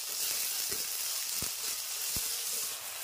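Coriander powder, black pepper and Kashmiri chili powder sizzle steadily in hot oil in a pan for masala chola, a constant frying hiss with a few soft scrapes from stirring.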